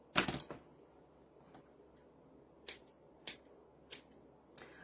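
Scissors snipping through something: a quick flurry of crisp cuts at the start, then four single sharp snips spaced about a second apart, close and clear over a quiet room.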